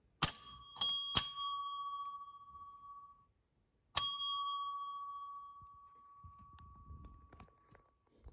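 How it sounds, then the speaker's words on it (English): A collected elevator bell chime from the Hollywood Tower rings out with several sharp metallic dings that ring on and decay, then one more struck tone that sustains, with faint handling noise afterward. "this right here is a bell chime from Hollywood Tower"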